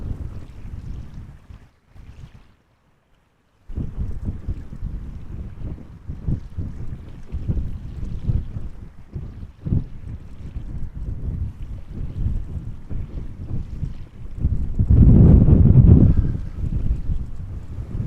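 Gusty crosswind at Amsterdam Schiphol Airport, a rumbling buffet of wind noise across the microphone that drops out briefly, then builds to a stronger roaring gust near the end.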